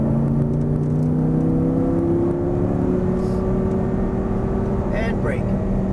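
An Audi R8 engine on a racetrack drones and climbs steadily in pitch as the throttle opens, loud and sustained, with a brief whoosh of wind near the end.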